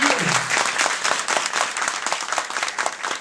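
A crowd in Bitlis, Turkey, applauds at a welcoming event for a mayor, with dense, rhythmic clapping that carries on steadily and evenly for the whole stretch.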